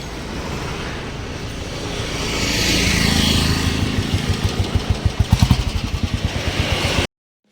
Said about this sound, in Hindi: ये आ गई अपनी बुलेट।